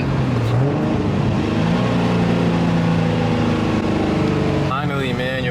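A turbocharged Nissan Z car's engine revs steadily and loudly for several seconds, its tone rising and falling, with a person talking over it near the end.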